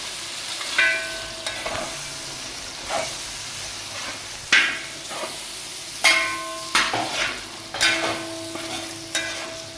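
Sautéed onions being stirred into a pan while frying for a Kerala-style chicken roast, with a steady sizzle broken by repeated scraping strokes of a spoon against the pan, close and moderately loud, no voices.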